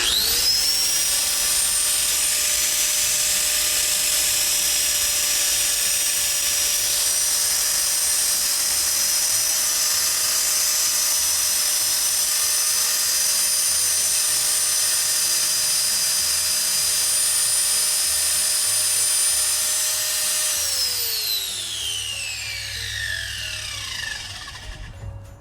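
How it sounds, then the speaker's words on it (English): A homemade metal piece is ground on a grinder, giving a loud, steady high-pitched whine with a rasping edge for about twenty seconds before the motor winds down and fades. No one talks. "I'm going to grind it on this also."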